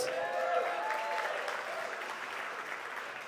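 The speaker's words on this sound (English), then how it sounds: "We can clap for that, right?" A seated audience at a literary press's annual benefit gala gives a steady round of applause, moderately loud and even throughout, with a faint ringing tone early on.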